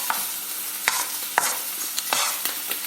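A bacon and chilli omelette fries in a pan over a gas flame turned up high, with a low sizzle under repeated sharp spatula scrapes and taps, moderately close, with no talking.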